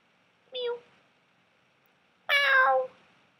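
A person imitates a cat, giving two separate meows, a short clipped one and then a longer, louder drawn-out one, close to the microphone in an otherwise quiet room.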